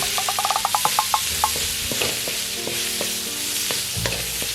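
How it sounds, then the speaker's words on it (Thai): Meatballs sizzle in a hot wok while a utensil clatters and scrapes in quick rhythmic strokes, then rattles more loosely; no voices. "ผัดผัดผัดสักนิดนึง หลังจากนั้นก็ใส่ลูกชิ้นลงไปค่ะ"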